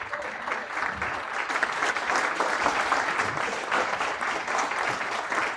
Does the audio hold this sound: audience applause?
yes